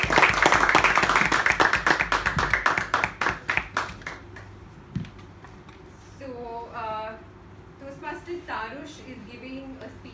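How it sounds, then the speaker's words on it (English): Audience at a Toastmasters club meeting clapping for a Toastmaster, dense applause in the first few seconds thinning to scattered claps, then a person speaking. "Claps for Toastmaster Darush."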